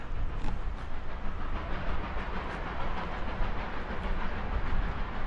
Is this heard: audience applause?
no